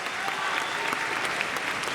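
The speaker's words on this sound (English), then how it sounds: "congratulations, really big applause on that." A crowd at a New York Comic Con 2023 panel for Blumhouse's Five Nights at Freddy's breaks into enthusiastic applause, a thick, even patter of many hands clapping throughout.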